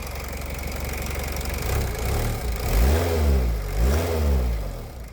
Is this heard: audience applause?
no